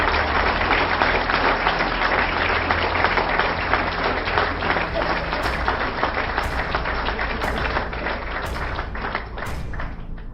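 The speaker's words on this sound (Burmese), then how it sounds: "လက်ခုပ်တီးတဲ့အတိုင်းကြားရပါလားခင်ဗျာ" Continuous applause from a Mobile Legends game lobby, a dense wash of clapping and crowd noise held at a steady level, with short high electronic ticks from the game repeating near the end.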